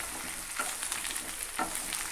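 Pumpkin pieces and onions fry in oil with a loud, continuous sizzle. Two clear scraping strokes of stirring cut through it, close up and with no voices.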